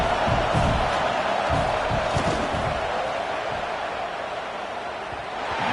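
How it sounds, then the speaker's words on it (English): A packed college football stadium crowd at an Auburn game roars steadily through a field goal attempt, a dense wall of noise trying to rattle the kicker, with scattered shouts and no clear single voice. "This crowd trying to do its part to get inside the kicker's head."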